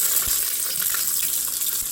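Chopped onion sizzles in a hot pan for chow mein, a steady, fairly quiet hiss with faint soft bumps and no voices.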